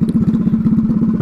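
A loud drag scooter engine idles close by, its rapid, steady, throbbing low putter running continuously without a break.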